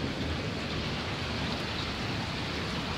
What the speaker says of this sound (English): But this seriously is the biggest rain I have ever seen in my life.